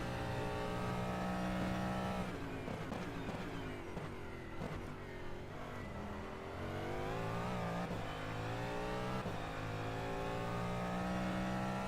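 Cadillac DPi hypercar racing at Sebring in rFactor 2, its engine droning loudly and close with revs climbing and falling through gear changes and throttle lifts, no talk over it.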